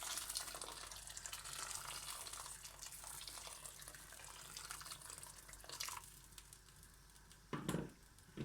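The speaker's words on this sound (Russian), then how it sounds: "Наливаем сюда кипяток, который мы предварительно поставили до этого. Нам нужно залить фасольку." Boiling water is poured from a kettle into a pot of beans for a Turkish tomato-sauce bean dish, a steady broadband splashing stream that runs nearly the whole time, then eases off near the end with a brief final gush.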